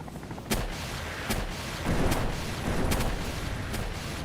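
Rapid bursts of gunfire and booming artillery-like blasts from an attack helicopter in Palworld, several sharp loud impacts over a continuous rumbling din, with no talking.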